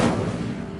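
An Incendio fire spell in Hogwarts Legacy ignites a pyre with a sudden loud whoosh-like burst that fades quickly into a dull roar, up close and alone.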